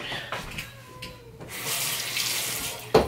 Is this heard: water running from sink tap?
yes